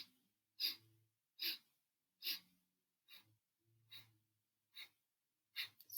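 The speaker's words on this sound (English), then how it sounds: "we'll begin our 4-part breath together now" Yogic four-part breathing, eight close breaths in and out at a steady paced rhythm, each a soft airy rush with brief quiet gaps between, without speech.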